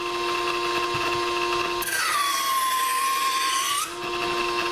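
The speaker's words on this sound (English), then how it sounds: "So this is just an electric sharpener made just for sharpening hunting knives and whatnot." An electric knife sharpener runs with a steady motor whine, and for about two seconds a hunting knife blade is drawn through it, adding a loud, bright grinding scrape before the motor hums alone again.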